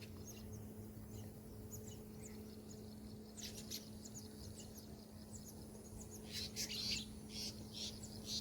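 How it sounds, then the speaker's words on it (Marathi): Birds chirp and tweet in scattered quick bursts over a steady low background hum, faint and fairly distant, growing busier toward the end, in hilly Konkan village paddy country. "हा किलबिलाट"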